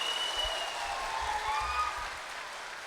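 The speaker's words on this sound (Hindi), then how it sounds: "ताली जब बजानी है ना, थोड़ा दिल खोल के बजाइए" Audience applause at a network marketing seminar in a hall, a steady, fairly faint patter of clapping that holds for about two seconds and then eases off.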